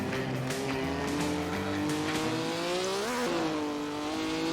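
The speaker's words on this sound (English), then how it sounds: "Hard braking into the final corner." A 1955 Formula One car in Assetto Corsa brakes hard into the final corner, its engine note sweeping downward through the gears in a loud, continuous whine with a brief tyre squeal.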